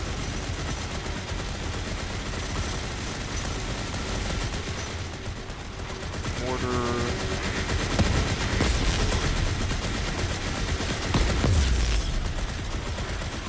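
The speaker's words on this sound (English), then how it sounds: "Dual Gatling." Dual Gatling guns firing in the game Volcanoids, a dense continuous roar of rapid gunfire that holds steady and grows heavier in the second half, with a few louder bursts and mechanical clanks mixed in.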